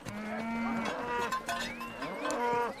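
Cattle of the Maasai herds in Africa moo in a few drawn-out, tonal calls that overlap one another at close range, with no talk.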